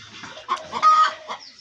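A young, agitated decoy hunting bird calls close by with a few short, harsh clucking notes in quick succession, standing alone without talk.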